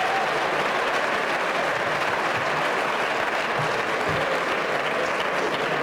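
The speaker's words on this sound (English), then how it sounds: "let's hear it again for Boston's Mayor Martin J." Sustained, dense applause from a conference audience honoring Boston Mayor Martin J. Walsh, steady and full for the whole stretch with no break.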